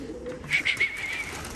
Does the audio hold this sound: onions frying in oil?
no